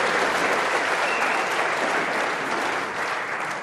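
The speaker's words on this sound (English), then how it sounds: "This might get the biggest cheer tonight, John, you know that?" A snooker crowd at the Masters applauds in a dense, sustained wave of clapping that fills the hall, loud and continuous before tapering slightly at the end.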